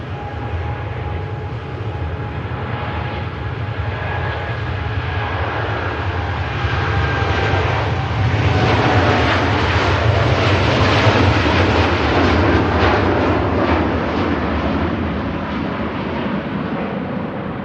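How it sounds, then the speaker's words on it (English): A Boeing Dreamliner jet taking off at Manchester Airport, heavily laden, its engines a loud sustained roar with a whining tone that swells to a peak midway and then slowly recedes. "There goes the Dreamliner to Phuket in Thailand."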